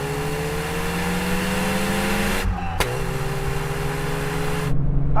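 Several generations of Volkswagen GTI, including a Mark 1, accelerate hard from a 50 km/h second-gear roll in a half-mile drag race. Engine drone rises steadily and continuously, with a brief dropout and a sharp click partway through.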